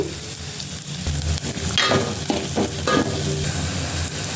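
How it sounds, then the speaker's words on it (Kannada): Crushed garlic, onion and curry leaves fry in a pan, making a continuous close crackling sizzle broken by a few bursts of stirring. "ಜಜ್ಜಿ ಇಟ್ಕೊಂಡಿರೋ ಬೆಳ್ಳುಳ್ಳಿ ಹಾಕ್ತಾ ಇದ್ದೀನಿ ಈರುಳ್ಳಿ ಈ ಸ್ವಲ್ಪ ಫ್ರೈ ಆಗಬೇಕು"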